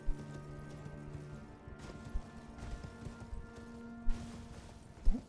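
Hoofbeats of a summoned horse clip-clopping in Elden Ring, quiet and steady under a tonal music-like background, with a few louder thuds along the way.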